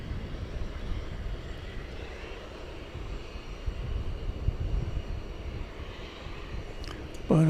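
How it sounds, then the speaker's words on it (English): At night, a Volaris Airbus A321 airliner taxis at DFW Airport, its engines a steady broadband roar that holds even throughout, joined near the end by a brief louder burst close by. "Airbus A321 is now taxiing to our position up here"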